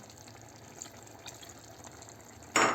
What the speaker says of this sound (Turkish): Şöyle biraz da limon suyu ekleyelim.